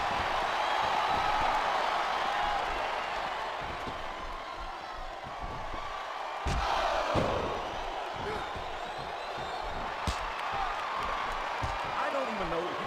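An arena crowd in the wrestling video game WWE SmackDown vs Raw 2007 roars as a continuous wash of noise, with occasional sharp slams on top and commentators talking over it.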